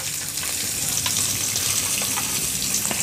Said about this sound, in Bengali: এখন এগুলো বাদামি কালার করে ভাজতে হবে।